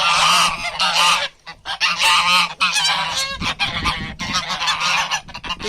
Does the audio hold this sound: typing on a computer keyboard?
no